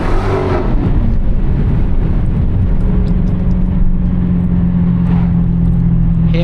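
A Dodge Hellcat drives on the road, its supercharger whining as a steady tone over loud, continuous engine and road rumble, heard close from inside the car.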